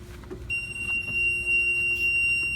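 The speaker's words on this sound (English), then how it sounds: "if that alarm keeps going on, I'm gonna turn the ignition off" A vehicle's warning alarm sounds with the ignition on during a brake check, a steady high-pitched electronic tone held continuously after starting, over a low idling hum.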